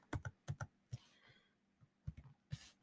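Quick clusters of keystrokes tap on a computer keyboard, close and quiet, arriving in short bursts with brief pauses between them.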